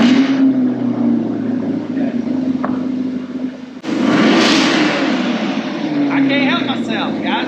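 A new Chevrolet Corvette engine runs with a steady, close rumbling idle, then swells into a louder rev partway through, while people talk over it.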